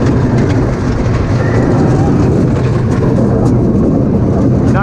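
A roller coaster train at The Big Sheep park rumbles and clatters loudly along its track, a continuous heavy roar with rattling close by.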